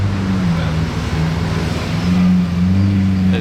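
An Alfa Romeo 4C sports car rolls past in the Monaco Grand Prix street crowd, a loud, close, steady engine drone with a droning low hum that swells slightly toward the end.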